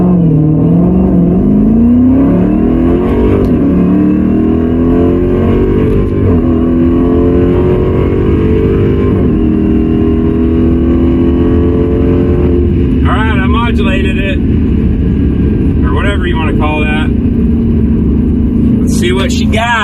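Dodge Hellcat muscle car accelerating hard on a quarter-mile drag strip, a loud continuous engine roar climbing in pitch through the gears, with people talking and cheering over it later in the run.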